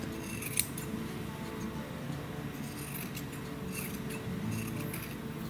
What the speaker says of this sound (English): You can also trim some of this bulk around the seams.